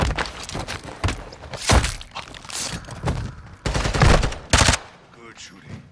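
Close bursts of gunfire with heavy thuds come in short clusters during a Modern Warfare 2 Remastered firefight, with people talking between and over the shots.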